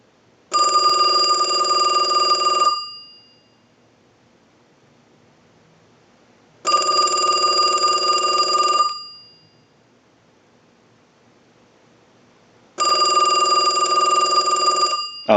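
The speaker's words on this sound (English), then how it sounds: "use the analyzer and send a ring cycle like you were getting a call" Western Electric Noteworthy telephone bell ringing from an analyzer ring cycle: three loud, close bursts of about two seconds each, separated by roughly four seconds of silence.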